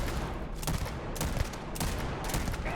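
Rapid gunfire from a weapon in the video game Starfield, a dense continuous burst of loud shots with a few sharper peaks, close and steady with no voices.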